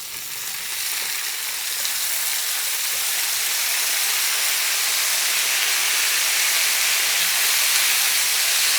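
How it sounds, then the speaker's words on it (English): Chopped tomatoes hit a hot pan and sizzle loudly, a broad continuous hiss that builds slightly and holds steady for several seconds without any speech. "Oh, that beautiful noise, sizzling noise."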